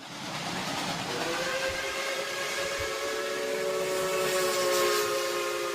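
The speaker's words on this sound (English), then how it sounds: "Here it comes, the hype train." A steam whistle blows a long, sustained multi-tone blast over a steady hiss, played as a hype-train sound effect, fairly loud with no one talking.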